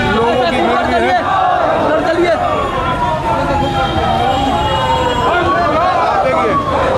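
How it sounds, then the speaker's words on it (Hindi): Dense crowd noise from a CPI-ML protest march heading toward JP Chowk in Siwan, Bihar, with an ambulance siren wailing up and down through the steady murmur of many people nearby. "आप देखिए लोगों की भीड़ भी है।"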